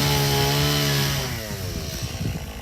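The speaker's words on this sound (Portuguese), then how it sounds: "Eu sabia que o cara ia ligar uma motosserra aqui." A chainsaw revving loudly nearby, its steady droning engine note shifting and wavering before breaking into rougher bursts as it runs on.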